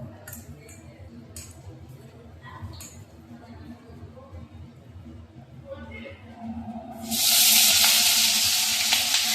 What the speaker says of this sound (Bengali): বাবু চিংড়ি মাছ ভাজা করে দিলাম